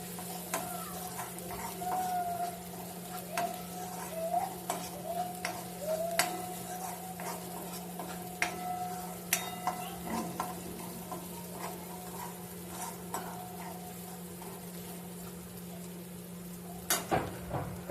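Pounded ginger and garlic sautéing in a pan for a Malvani egg curry, with faint sizzling and scattered sharp clicks of stirring against the pan over a steady low hum, and no one speaking.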